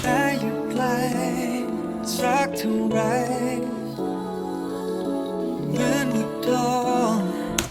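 Synthesized choir pads sing sustained vowel chords with shifting pitches, full and steady throughout, no speech.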